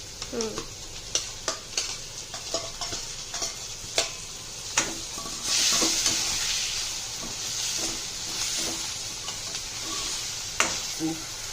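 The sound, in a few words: frying onion and tomato in a pan for poha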